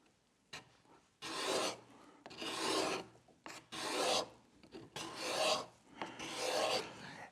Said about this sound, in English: you can see that heavy burr is taking a much heavier shaving